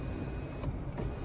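Power sunroof motor on a Subaru Impreza whirring as the roof tilts and then slides, a steady close mechanical hum with brief clicks near the end, no talking.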